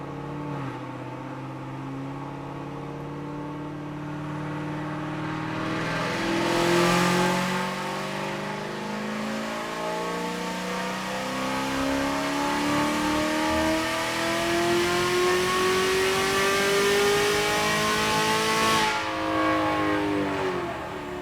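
LS7 V8 in a Corvette C6 Z06 on a dyno pull, loud and close, its engine tone climbing steadily through the revs for nearly twenty seconds before dropping off sharply at the end.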